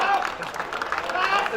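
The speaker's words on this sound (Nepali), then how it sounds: "उनलाई जोरदार तालीका साथ हौसला प्रदान गरौँ" Applause from a crowd greets the youngest rider at a mayor's cycle race, a dense, steady patter of clapping that holds at even loudness throughout with a general crowd murmur beneath.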